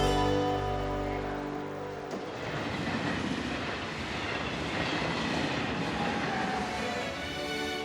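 Train travelling on rails through northern Italy, a steady rumbling roll with faint rhythmic wheel clatter, loud and continuous throughout after a sharp tonal hum fades in the opening seconds.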